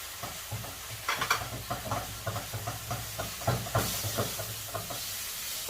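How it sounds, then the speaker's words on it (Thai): Fermented soybean paste being stir-fried in a pan, with steady sizzling frying and rhythmic scraping strokes of a spatula repeating throughout, close and moderately loud. "เราใส่เต้าเจี้ยวลงไปเลยค่ะ ลงมาผัดให้หอมค่ะ"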